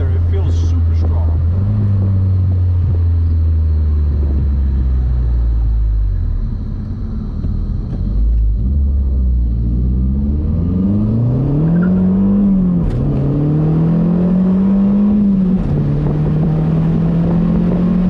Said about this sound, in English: Just that extra intake sound with the blow-off valve, oh, so good.